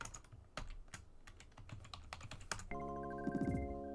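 Rapid keyboard typing clicks away as text is entered in the video game Tomodachi Life. The clicks stop abruptly and give way to a steady, tonal music drone.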